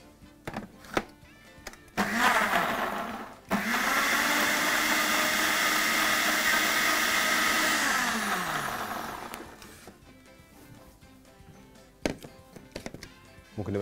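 A blender whirs loudly for several seconds, cuts out briefly, then runs again before spinning down, with clattering handling noises before and after.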